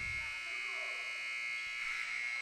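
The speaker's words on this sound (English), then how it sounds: "We've got the buzzer going off here inside the gym." A buzzer sounds inside a high school basketball gym, a continuous high electronic tone that drones steadily through the whole stretch, with faint crowd and voice murmur underneath.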